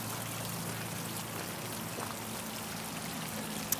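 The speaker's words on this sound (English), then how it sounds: "You see the way the water falls away there" Water sheets steadily off an artificial rock boulder fountain and splashes down, a constant close rush with no voices.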